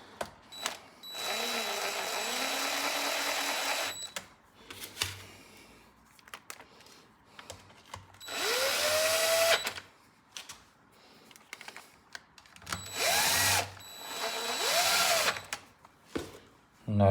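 A power driver snugs up T27 screws on a Stihl 026 chainsaw during a carburetor rebuild. It whirs in several short, close bursts that rise in pitch, with quiet gaps and handling noise between them.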